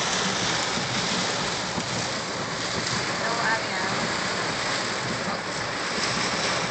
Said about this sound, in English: Welcome to Rain from Antigua